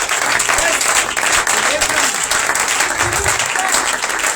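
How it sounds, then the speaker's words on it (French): Audience applause at an opening conference of a church Feast of Tabernacles gathering, a loud sustained clapping crowd filling the whole stretch while a voice speaks over it. "Oh, acclame Jésus. Acclame Jésus."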